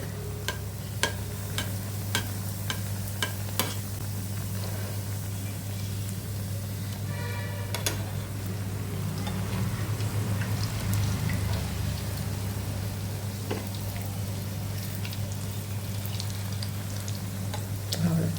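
Chicken donuts frying slowly in hot oil in a home kitchen, giving a steady close crackle and sizzle throughout with scattered sharper pops and utensil clicks, no talking.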